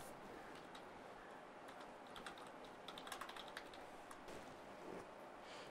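Keys clatter on a computer keyboard as an address is typed, a faint, steady run of quick, irregular taps.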